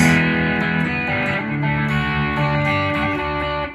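Crunchy electric guitar tone through a Joyo British Sound pedal in a Marshall JCM 800 style, loud sustained driven chords ringing steadily without talking.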